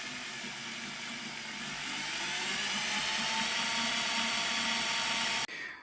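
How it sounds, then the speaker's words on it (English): A drill countersinks a funnel shape into a copper hiking stick tip, giving a continuous high-pitched whine that holds steady and loud for about five seconds, close up, before cutting off abruptly. "Now I'm just going to drill, just to countersink it, take out a siphon or a funnel shape in the copper"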